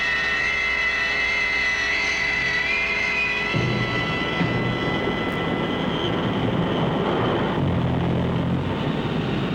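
Strategic Air Command military aircraft, bombers and tankers, produce a steady, loud engine drone with a high whine over a rumbling roar; the tone shifts partway through and the noise continues without pause, with no talking.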